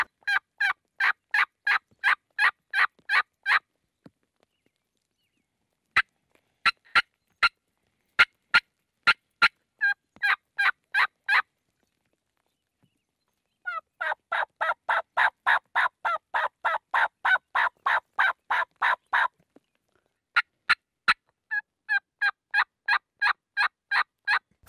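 A wild turkey gobbles in Wyoming turkey-hunting country, a pasture opening edged by trees. Its rapid rattling calls come in clear, loud bursts with sharp clucks and pauses between them, and no voices sound over them.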